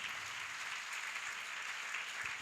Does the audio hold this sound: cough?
no